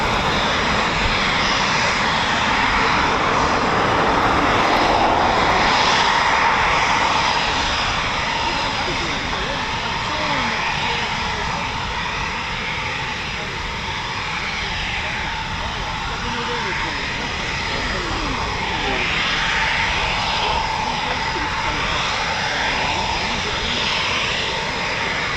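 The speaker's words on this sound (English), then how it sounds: "Avro Lancaster is the 460 Royal Australian Air Force markings, which were operating the Lancaster." A four-engined Avro Lancaster bomber in 460 Squadron Royal Australian Air Force markings drones overhead with a continuous, loud engine roar that swells and fades slowly, while someone talks over it.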